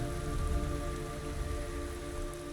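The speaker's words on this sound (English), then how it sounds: "It's raining blood." Steady rain falls in the video game Metal Gear Solid 3, a dense, continuous patter with a low hum beneath, no voices.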